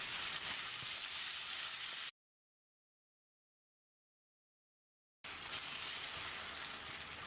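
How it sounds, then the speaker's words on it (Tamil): Chopped tomatoes and onions fry in a pan with salt, a soft, steady sizzle that cuts out completely for a few seconds in the middle, then resumes. "1 டீஸ்பூன் உப்பையும் சேர்த்து தக்காளியை நல்லா மசிகிற அளவுக்கு வதக்கணும்."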